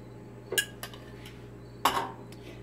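Meatloaf mixture with an added egg gets mixed in a bowl, a few utensil clinks and taps against the dish spaced unevenly, close and quiet, no talking.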